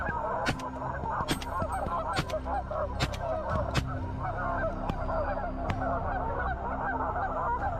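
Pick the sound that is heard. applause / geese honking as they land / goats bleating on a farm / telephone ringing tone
geese honking as they land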